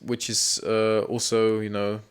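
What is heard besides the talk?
No everyday noise stands out behind the speech.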